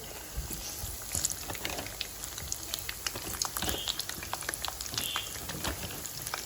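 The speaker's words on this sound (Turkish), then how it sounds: "Şimdi onları kızartmaya başladım." Steady crackling and sizzling of chicken deep-frying in hot oil, with scattered pops over a continuous hiss, close by.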